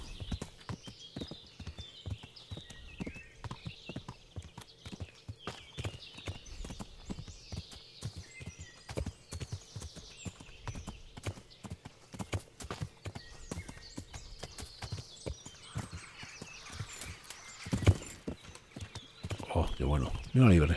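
A horse in Kingdom Come Deliverance gallops across country, hooves clip-clopping in a quick steady rhythm, fairly faint under a voice talking over it.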